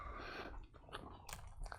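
Crisp crunching bites into a breakfast burrito, close and fairly quiet, with several sharp crackles as the food is chewed.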